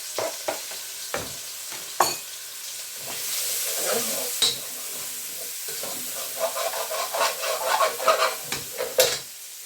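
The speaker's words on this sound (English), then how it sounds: "The thing about a stir fry is it's got to be noisy." Chopped onions crackle and sizzle in hot oil for a chicken and prawn fried rice stir fry, giving a steady frying hiss broken by sharp clatters and scrapes of stirring.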